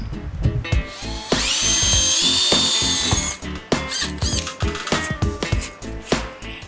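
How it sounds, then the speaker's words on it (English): A power drill whines in a long sustained burst, then several short bursts follow, mixed with clanking metal and tool handling nearby, as rivets are drilled out of the top of a school bus conversion's front door. "Brian had to take all the rivets out of the top of the door. Drill."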